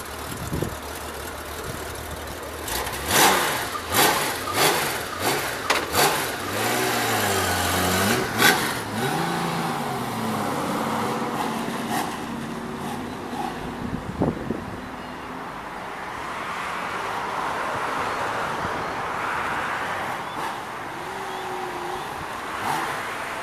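A 1997 Honda GL1500A Goldwing Aspencade touring motorcycle engine revs up repeatedly through gear changes, then settles into a steady cruising drone with wind rush, close and loud.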